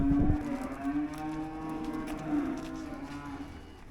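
A heifer on a dairy farm gives one long, close, sustained moo lasting several seconds, with a faint knock at the start and no talking.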